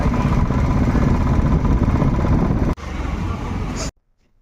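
A motorcycle engine runs close and loud, a steady rumbling drone that dips sharply partway through and then cuts off, leaving near silence.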